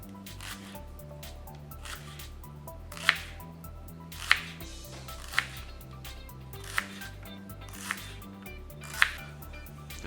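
A knife thinly slices shallots on a board in a run of quick, close cuts. A few sharper knocks land every second or so, and a low tonal hum sits beneath.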